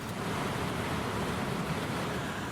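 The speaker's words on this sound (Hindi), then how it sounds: "कहीं डैम से गरजती लहरें कोहराम मचाते हुए नदी में तांडव कर रही हैं।" Roaring flood water released from a dam surges in a dense, continuous rush, loud and steady with no voices.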